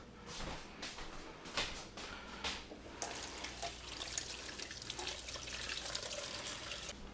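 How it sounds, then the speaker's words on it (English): Water runs from a kitchen tap as hands are washed, a steady close splashing stream broken by rhythmic bursts of rubbing and splashing, with no one speaking. "Okay, let me wash my hands."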